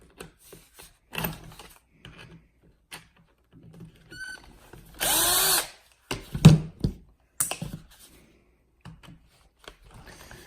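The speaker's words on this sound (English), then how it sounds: "pop these screws out" Screws are backed out of a LOSI 8ight RC buggy with a small power driver, giving a couple of short whirring bursts amid light clicks and taps of parts being handled.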